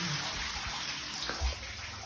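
Water running steadily from a large shower head in a wet room with a tiled shower tray, a continuous broad hiss and splash that stays even throughout.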